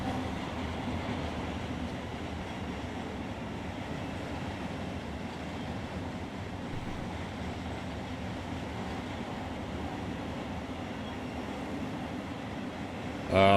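BNSF 6789, a freight train on the main line in the Run 8 Train Simulator v3 video game, rolls past a siding with a faint, steady low rumble and rail noise that stays continuous.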